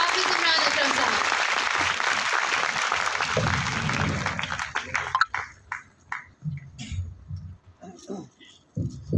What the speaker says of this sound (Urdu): آپ سب کی بھرپور تالیوں میں